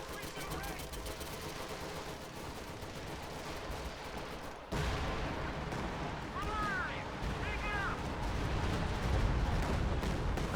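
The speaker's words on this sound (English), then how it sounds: "That's a lot of artillery." Artillery fire booms and crackles in a video game, dense repeated blasts and gunfire rumbling continuously with a sudden louder surge midway, while a voice talks over it.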